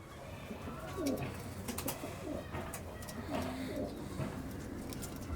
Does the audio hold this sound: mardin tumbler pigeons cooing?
yes